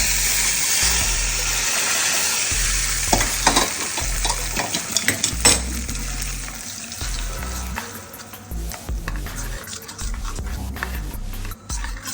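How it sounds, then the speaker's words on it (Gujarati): Hot tempering with asafoetida poured straight into chutney for sandwich dhokla, giving a steady loud sizzle and bubbling hiss with a few stirring clinks, no talking. "એ વઘાર નાખી દઈશું સીધો આપણે ચટણીમાં"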